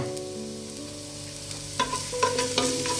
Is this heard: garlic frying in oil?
yes